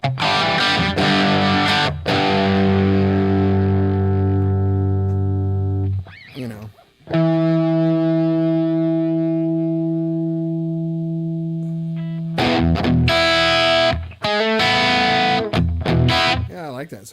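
An electric guitar played through a $69 Behringer Klon Centaur clone overdrive pedal into a 6L6 tube amp at low voltage rings out sustained, loud overdriven chords, with a brief break where someone speaks.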